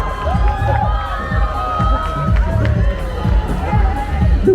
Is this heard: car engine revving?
no